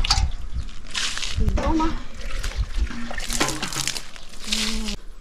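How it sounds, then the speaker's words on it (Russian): Cold water runs from a hose onto strawberry plants in a village vegetable garden, a continuous splashing hiss throughout, while someone talks over it in bursts. "Прям холодной водой я сюда клубнику поливаю."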